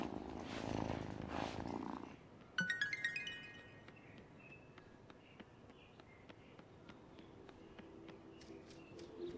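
A cat purrs in Wylde Flowers, a soft, low rumble running under brief rustling and a chiming game tone, with a faint tick of small steps scattered throughout.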